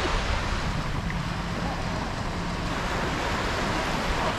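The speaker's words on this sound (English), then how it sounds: "I'm dodging the waves here." Ocean waves rolling onto the beach at Barry Island, a steady loud roar of surf heavily mixed with wind buffeting the microphone, continuous with no clear breaks.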